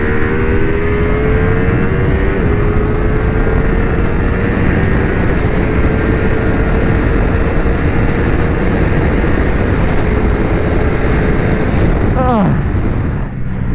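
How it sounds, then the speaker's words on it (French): Ducati Streetfighter V2 motorcycle engine in sport mode on a straight, droning loudly and steadily, then revving quickly upward near the end under heavy wind rush. "j'aime bien la réaction moteur, ça monte très très vite"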